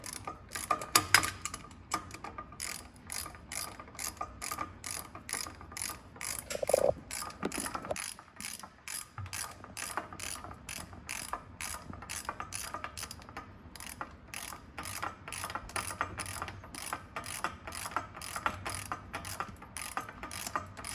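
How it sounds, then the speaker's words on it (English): Socket wrench ratcheting on a bolt while installing a Janus 250 Stage 3 and 4 engine kit, producing a long run of rapid, even clicks close by, briefly interrupted midway before the clicking resumes. "Let me go ahead and switch over to a socket."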